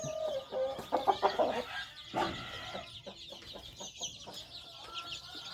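Hens cluck in short bursts close by as small chicks about twenty-five days old peep in thin, high chirps, in cold, rainy weather on a farm.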